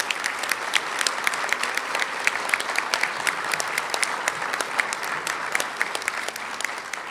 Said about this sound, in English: Ladies, will you all please stand for a round of applause?